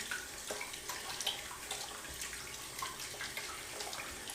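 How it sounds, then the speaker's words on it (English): Hands rinsed under a running tap after applying a heavy post-shave balm, a steady faint stream of water splashing continuously with no talking. "I am going to rinse my hands though"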